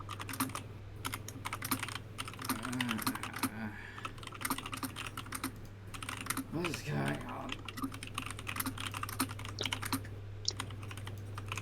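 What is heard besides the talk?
typing on a computer keyboard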